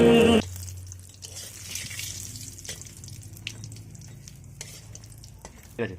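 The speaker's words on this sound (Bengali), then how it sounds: "এবার ভাজাগুলো হয়ে গেছে" Fried vegetables for a Bengali milk-and-cashew shukto lifted and stirred in a pan, a steady low sizzle with soft scraping and a few clinks, alone after a brief loud start.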